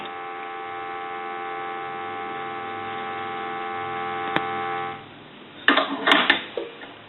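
A steady dial tone from a 1901-patent Kellogg wooden crank wall telephone hums for several seconds, then cuts off, followed by a few short clicks and clatters.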